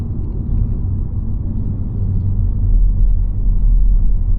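A Mini JCW automatic car rumbles over a rough road used heavily by trucks, a loud, continuous low-pitched roar and jostle with no talking.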